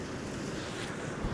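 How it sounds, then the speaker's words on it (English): Gusty wind buffets the microphone on a beach during a plaice fishing session, a dense, continuous rush that may carry surf beneath it, with no voices. "That wind's picking up as well, so it's quite blowy."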